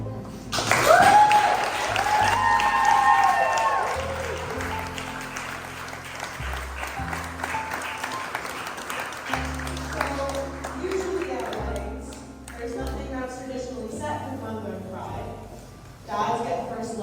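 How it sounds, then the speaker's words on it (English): Wedding guests applaud after a toast, a spread of clapping mixed with voices and music at a reception, continuing at a fairly steady level with a brief dip near the end. "Can I get a round of applause?"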